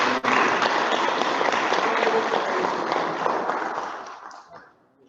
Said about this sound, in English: Please join me in giving Sharon Oliver another round of applause.